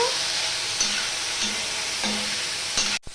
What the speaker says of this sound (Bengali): এবার ব্রকলিটা আমি ভেজে নিচ্ছি দেখতেই পাচ্ছ